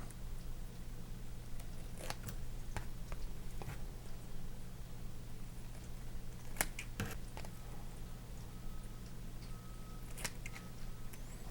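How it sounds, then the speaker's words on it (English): Scissors trimming excess vinyl wrap from the edges and corners of an RC car body, giving a few faint, sparse snips and crisp clicks over a low steady background hum. "So I'm also going to cut the excess off, leaving about 1/4 inch or so to wrap around."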